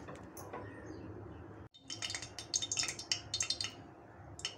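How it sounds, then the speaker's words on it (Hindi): A metal kadai set down on a kitchen stove to heat, with soft metallic knocks and clinks of pans and utensils, a short pause, then a burst of sharper clatter, all fairly quiet. "और ये देखिए, अब हम कढ़ाई रख दिए हैं गर्म करने के लिए।"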